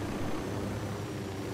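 Airplane in the Ghost Recon Wildlands video game, a steady low droning engine hum that holds at an even level throughout, with no talk over it.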